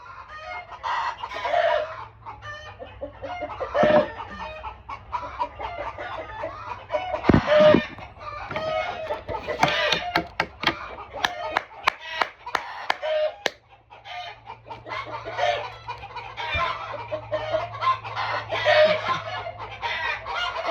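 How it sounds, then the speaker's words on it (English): A flock of roosters, eleven among forty birds, crowing and clucking in repeated bursts, some near and loud, others farther off, with short sharp clucks and calls scattered between the crows. "We have 11 roosters, 40 birds. 11 of them are roosters. And this is who you hear right now."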